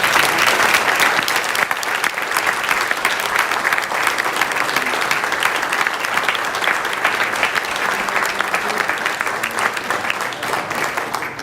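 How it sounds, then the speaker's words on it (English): An audience at an Eagle Scout Court of Honor applauds the new Eagle Scouts, a loud, dense, sustained round of clapping that fills the room without letting up. "Let's give these gentlemen a round of applause."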